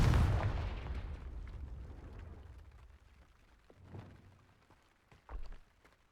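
A Confringo blasting spell explodes in Hogwarts Legacy, a heavy booming blast with a long decaying rumble, followed by two softer thuds a few seconds later.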